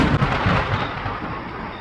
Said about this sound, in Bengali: ঠিক প্রচন্ড জোরে একটা বাজ পড়লো কোথাও কাছে।